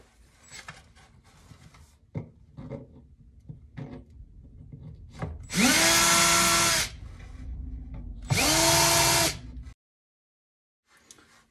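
Two loud bursts of a power drill whirring into wood for an arcade cabinet riser, each lasting about a second, preceded by scattered taps and handling noises, then silence.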